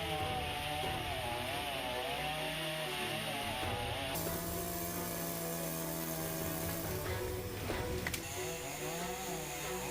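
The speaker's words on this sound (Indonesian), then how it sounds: "mengevakuasi batang pohon dengan memotongnya menggunakan gergaji mesin" A chainsaw cuts through a fallen tree trunk at a roadside clearing, its engine revving and whining continuously, shifting pitch as the blade bites into the wood.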